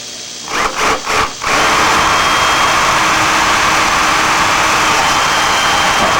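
A power drill drilling holes in aluminum for aircraft rudder and aileron hinges gives a few short revving bursts, then runs continuously at high speed, loud and close, with no voices.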